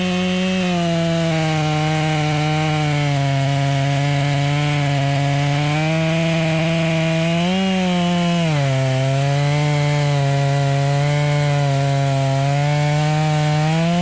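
A chainsaw cuts through a white oak tree, its engine holding a loud, steady high whine close by that dips briefly under load before recovering, with no talk.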